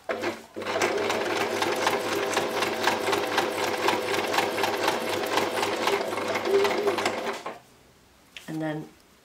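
A sewing machine stitches through a handmade stamped card in a fast, close, rhythmic run of needle strokes, then briefly reverses to backstitch before stopping. A short burst of mechanical clicks follows.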